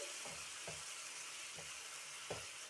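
Tomato paste with spices frying in a pan for an eggplant dish, a steady sizzle throughout, broken four times by brief scraping stirs of a spoon.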